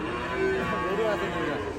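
Cattle moo at a busy cow market in Barura, Comilla, where heifer calves are sold: a low, drawn-out bellow rises out of a steady din of crowd noise.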